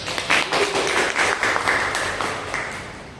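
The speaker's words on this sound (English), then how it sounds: "Let's give a big applause." A Toastmasters club audience claps together at the close of a meeting, a short, dense burst of applause that peaks early and gradually tapers off.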